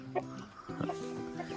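Chickens in a breeding pen cluck close by in short, uneven bursts, several calls overlapping across the brief stretch.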